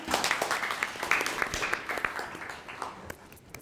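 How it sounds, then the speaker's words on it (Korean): Audience applause at a law-firm ESG seminar panel discussion welcomes the moderator: a dense, steady wash of many hands clapping in a hall, moderately loud, with no talk over it. "큰 박수로 맞이하겠습니다"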